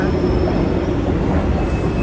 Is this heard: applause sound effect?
no